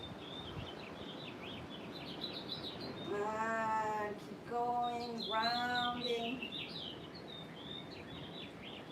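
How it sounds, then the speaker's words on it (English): Birds chirp and sing outdoors in repeated high bright calls, with a few louder harmonic calls in the middle, while a calm voice speaks over them. "Can you hear the birds?"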